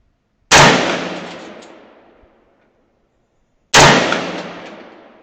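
Two sharp rifle shots fired at a 3-inch steel target 100 yards away, each a loud crack trailing into a long fading echo, spaced about three seconds apart with silence between.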